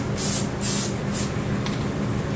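Liquid rubber comes out of a spray can in three short bursts of loud, close hiss with brief pauses between, then a quieter faint spritz, over a low background hum.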